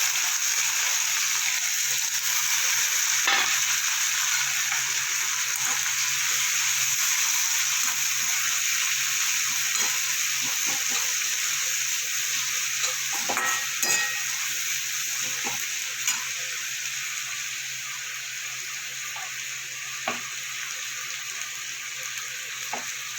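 Chopped onion fries in oil with black cumin and a pinch of asafoetida for an okra and prawn curry, a dense, steady hiss of sizzling that fades slightly over time, punctuated by faint stirring clicks, with no voices.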